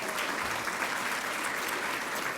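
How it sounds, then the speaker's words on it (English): Gala audience at a 40th anniversary dinner applauding a sponsor, an even, sustained round of many hands clapping in a large room, fairly soft and steady. "Please a round of applause for U.S."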